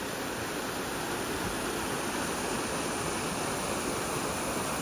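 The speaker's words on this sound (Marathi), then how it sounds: "इथून पासआउट होतो पाणी अक्कादेवी डॅममधला" Water rushes steadily out of Akkadevi Dam at Chirner during the monsoon, a loud, unbroken roar of flowing water with no pauses.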